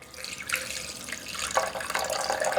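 Water poured from a tap into a blender jar sitting on a kitchen scale, a steady close splashing stream that grows slightly louder as the jar fills, with no talking.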